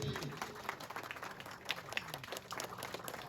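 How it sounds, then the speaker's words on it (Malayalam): Applause from an audience at the title launch of the Malayalam film Amoz Alexander, a steady wash of clapping running through the short stretch with some crowd murmur mixed in. "നല്ലൊരു കൈയടി."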